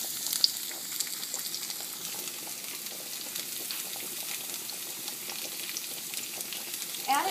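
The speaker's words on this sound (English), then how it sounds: "now we're just going to saute our onion and our peppers and tomato" Onion, peppers and tomato sauté in a hot pot for Cuban picadillo, giving a soft, steady sizzle and frying crackle up close, with no one speaking.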